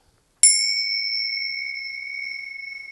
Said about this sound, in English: I also have my sacred bells